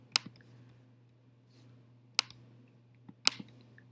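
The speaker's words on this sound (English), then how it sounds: "There's a lot of typing there." Three sharp, brief clicks of calculator keys being typed, spaced about a second apart, close by and alone over a steady low hum.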